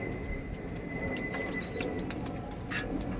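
Soft cooing pigeons call nearby over a low, steady background murmur, with a faint thin whistle-like tone drifting through.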